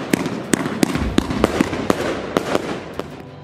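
Repeated fireworks bursts crack out at an uneven, quick pace, about a dozen sharp bangs over a continuous rumbling crackle, loud and close with no voices.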